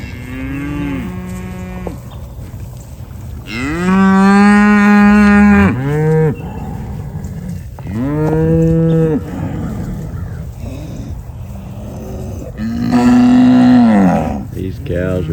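Cattle on a grass pasture low loudly in long, drawn-out moos, several overlapping calls close by, with steady farm background between them.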